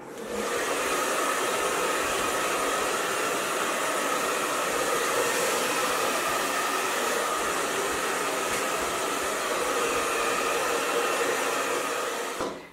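A hair dryer fitted with a diffuser attachment blows steadily, with a loud, even rush of air that holds for nearly thirteen seconds before cutting off.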